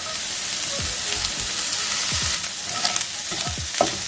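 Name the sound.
sardines frying and being stirred in a pan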